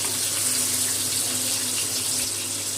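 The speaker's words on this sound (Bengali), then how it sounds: "মাছের 2 পিঠটা লাল করে ভেজে নেব" Katla fish frying in oil until red on both sides, a steady close hissing sizzle that rushes like running water, unbroken and even throughout.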